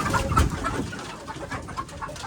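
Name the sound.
chickens making sounds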